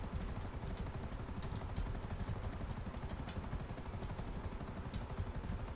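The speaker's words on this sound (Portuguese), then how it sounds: "Esse helicóptero é muito sensível, mano." A helicopter landing in the video game GTA V, a steady rapid rotor chop with engine whine throughout, close and continuous at a moderate level.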